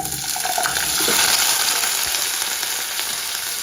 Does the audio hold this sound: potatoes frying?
yes